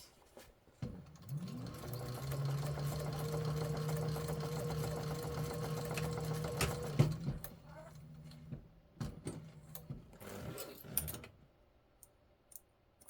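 Sewing machine stitching a handbag seam, a steady mechanical whir with a tonal motor hum for several seconds, then stopping, followed by scattered clicks and handling knocks as the needle is set down and the work pivoted. Close and fairly quiet.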